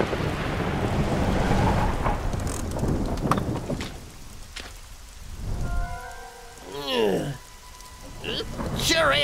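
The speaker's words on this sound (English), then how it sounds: "Sure is raining hard." Heavy cartoon rainfall hisses steadily, loud at first and thinning out, with rumbles of thunder and a few whooshing, swooping effects toward the end.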